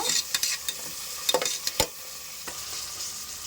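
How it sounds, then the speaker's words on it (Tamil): Onions with cloves, cinnamon and cardamom sautéing in oil in a pan, a steady hiss broken by several sharp spatula scrapes and clicks, close and fairly loud, with no speech. "இப்போ வெங்காயம் போட்டுக்கலாங்க. இப்போ வதக்கிக்கலாம் நல்லா"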